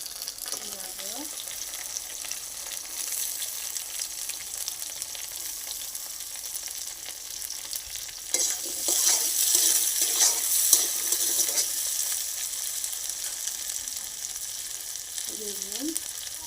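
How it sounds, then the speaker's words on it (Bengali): Potato, cauliflower, carrot, eggplant and tomato fry with salt in a pan, giving a continuous crackling sizzle that swells in the middle amid stirring, with brief soft voice sounds at the start and end. "আলু, ফুলকপি, গাজর, বেগুন, টমেটো, সামান্য একটু নুন দিয়ে সব কিছু ভেজে নেব"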